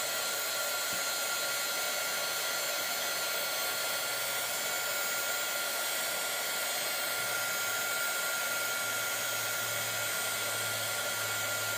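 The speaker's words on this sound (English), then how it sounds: "it does take a minute for the heat gun to warm up" A heat gun used for paper crafting blows hot air in a steady, unbroken hiss that holds at an even level throughout, with no talking.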